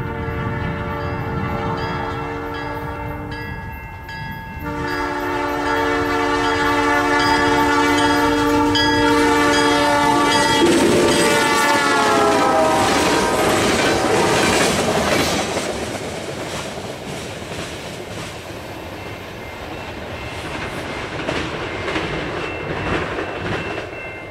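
A Canadian Pacific freight train, the Hastings local led by an older GP38 locomotive, sounds its horn in long loud blasts, then rumbles and clatters past over the rails in a sustained roar that gradually eases off.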